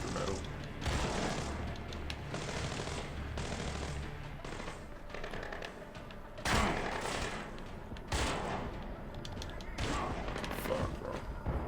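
Video-game gunfire with dense, rapid bursts of automatic shots mixed with heavy thumps, played over a steady game score and sustained loud throughout, with sharper volleys near the middle and toward the end.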